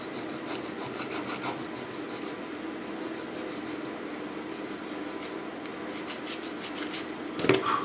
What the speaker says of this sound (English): so I'm just filing this into shape now. The epoxy's dried.